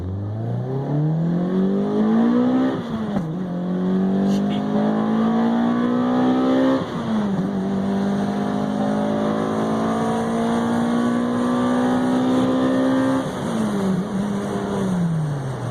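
A 2000 Toyota Celica GTS six-speed with an aftermarket exhaust pulls hard through the gears, its engine note climbing steadily, dropping at each shift and climbing again, loud and close with no talk over it.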